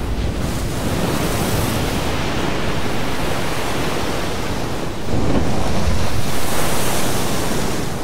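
Storm wind and crashing ocean surf on the exposed coast of Copinsay, Scotland, fill the air in a continuous, heavy wash of noise that surges louder midway through.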